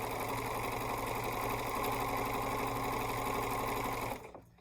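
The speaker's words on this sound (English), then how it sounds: "all I'm going to do here is sew this color to the other side" A sewing machine runs steadily at speed, stitching fabric pieces together with a continuous close mechanical whir and hum, then stops abruptly near the end.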